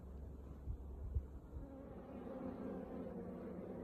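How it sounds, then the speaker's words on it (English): Honeybees hum steadily and softly inside a full hive box in an apiary, a faint continuous drone with a few low thumps near the start and no voices. "This is a full box of bees."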